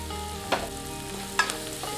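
Onions sautéing in a pan for Tamil-style kara kozhukattai, a steady sizzle with two sharp scrapes of a spoon stirring against the pan, close and without talk.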